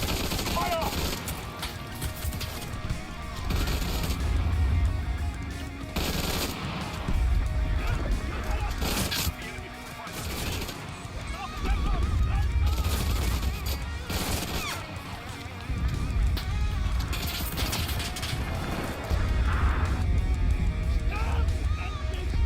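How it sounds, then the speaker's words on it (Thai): Bursts of close submachine gun or machine gun fire in the WW2 shooter Enlisted, with repeated rattling volleys and impacts over a continuous game din, while a voice talks over the action. "เป็นปืนกลที่ต้องยิงระยะประชิดเท่านั้น"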